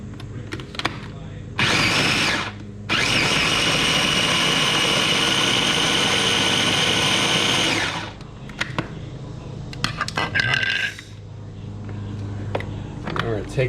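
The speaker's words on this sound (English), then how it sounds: "tomatoes in our food processor" A food processor whirs loud and steady as it chops garden-fresh tomatoes for homemade pasta sauce, starting with a short burst, then a long continuous run of about five seconds, followed by lid and bowl clatter.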